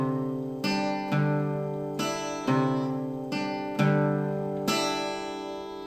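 A guitar slowly plays the intro of a song: about six separate bright strums, each left to ring out fully into the next, with no talking.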